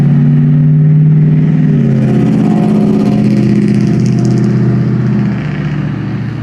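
A straight-six car engine runs loud and close with a steady, smooth hum that rises slightly, then settles and fades a little toward the end.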